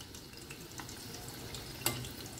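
Prawns coated in batter fry in a pan on a low flame, giving a soft, continuous sizzle with a brief sharper crackle near the end, faint and steady.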